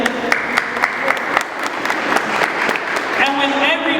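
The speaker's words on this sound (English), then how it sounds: "If you hear something that a poet says and you enjoy it, you can clap your hands just like this." Audience members at a poetry marathon clap in sharp, distinct hand claps, first spaced then quickening into a ragged burst, while a voice talks over them and a crowd murmurs.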